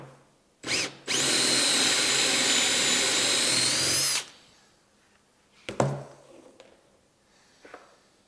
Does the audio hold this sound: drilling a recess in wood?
yes